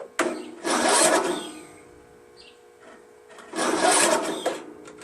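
A Craftsman LT1000 16HP lawn tractor engine cranks over in two strained bursts, each about a second long, with a pause between, but never catches; close and fairly loud, no talk.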